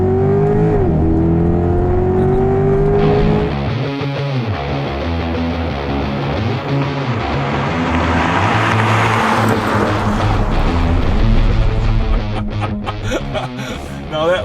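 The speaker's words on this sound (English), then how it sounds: "Oh, there goes the Corvette, and here comes the Tesla." A Chevy Corvette Stingray and a Tesla Model Y drag race side by side, heard as a loud, close engine roar that rises and revs across the run, with whirring motor noise and wind underneath.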